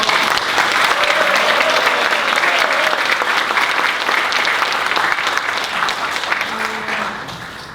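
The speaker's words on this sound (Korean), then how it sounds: "우리 당원의 이름으로 우리 천호선 대표와 이기집행 분께 힘찬 축하의 박수를 보내도록 하겠습니다." Justice Party members at a leadership inauguration give loud, sustained congratulatory applause for departing leader Cheon Ho-seon and outgoing officials. The dense clapping fills the room for nearly eight seconds, easing slightly toward the end.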